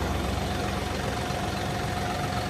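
A tractor engine idles at a low, even rumble, running continuously without pauses or talk.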